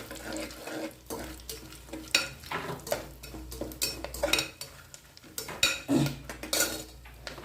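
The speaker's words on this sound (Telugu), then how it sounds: "అదేవిధంగా హోల్ గరం మసాలా ఫ్రై చేస్తున్నాను" Whole garam masala spices frying in a pan for coconut rice, with irregular metallic scrapes and clinks of a utensil against the pan over a low, steady background.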